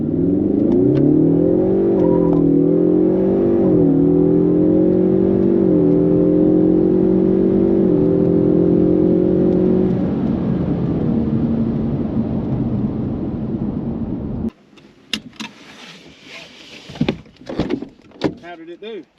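A 2023 Mustang EcoBoost accelerating hard on an eighth-mile run, its engine droning loud and close with rising pitch through several gear shifts before easing off, then a few clunks and knocks.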